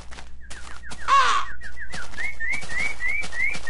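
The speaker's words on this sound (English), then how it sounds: "Oh, there's a bird." Birds call in the Minecraft video game, a run of rapid repeated chirping and whistling notes over soft game ambience, fairly loud and with no talk.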